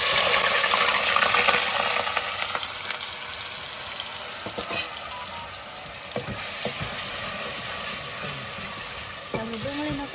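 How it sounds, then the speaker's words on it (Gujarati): Sliced onions sizzle in hot oil in a home kitchen pan, a steady loud frying hiss broken by occasional stirring scrapes and clinks, with no talk over it. "તો આપણું તેલ ગરમ થઈ ગયું છે અને હવે આપણે નાખી દેવાની છે ડુંગળી એમાં."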